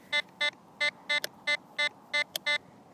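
A Tesoro Vaquero metal detector sweeping a parking lot sounds a loud, evenly spaced series of bright electronic beeps over a target, with a couple of sharp clicks between them.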